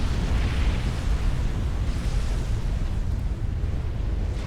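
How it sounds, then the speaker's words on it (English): A nuclear missile detonating in the strategy game Supreme Commander, heard as a loud, sustained low rumbling roar that fills the whole stretch without letting up. "That nuke's going to land slap bang in the middle of those galaxies"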